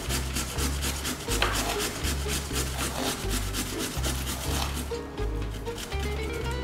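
Green papaya being grated by hand on a rasp grater, a steady close rhythmic scraping in repeated strokes, with no talking.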